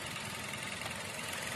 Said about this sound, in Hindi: अब ये जो है ये केवल इसकी इंजन की नॉइज है